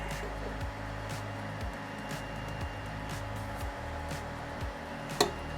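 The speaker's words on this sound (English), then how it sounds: "this thing is not quiet. The fan on this is pretty loud, as you can hear." The cooling fan of a Creality Halot-Mage 8K resin 3D printer gives a constant, fairly loud whooshing hum close by, with a few faint clicks and a single sharp tap near the end.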